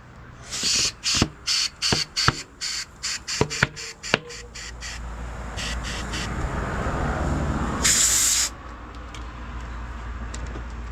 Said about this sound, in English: That's why I have an air compressor, folks.